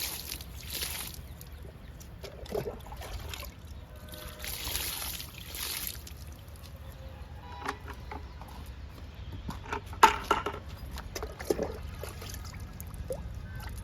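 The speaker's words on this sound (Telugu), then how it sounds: "వెర్బినాకి వాటర్ ఇస్తున్నా" Water trickles and patters softly and steadily, as if poured onto the soil of a verbena plant, with faint background noise and a few louder splashes near the end.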